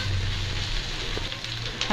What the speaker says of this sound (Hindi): प्याज को इसी तरह धीरे धीरे चलाते रहना है जिससे कि इसका कलर चेंज हो जाए।